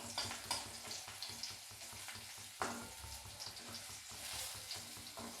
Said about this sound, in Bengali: একটুখানি একটু ভাজি হলে তার মধ্যে আমি ওই শাকটাকে ঢেলে দেবো।